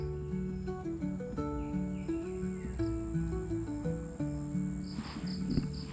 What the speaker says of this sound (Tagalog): pakinggan nyo naman yung mga ibon, yung mga kulisap.